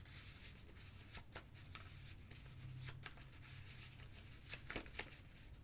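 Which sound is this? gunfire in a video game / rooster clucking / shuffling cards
shuffling cards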